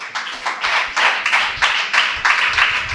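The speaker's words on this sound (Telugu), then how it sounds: "చప్పట్లు కొట్టండి ఈ మాటకి" A church congregation claps in a loud, close burst of rhythmic, fairly even hand claps. It lasts about three seconds with no talking.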